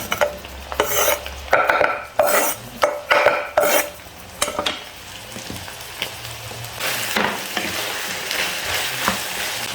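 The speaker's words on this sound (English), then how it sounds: "I'm going to add the onion. That's 2 onions going in there." Two onions tipped into a hot pan of browned meat, clattering as they're stirred, then settling into a steady loud sizzle and crackle of frying, with repeated scraping strokes of a utensil against the pan.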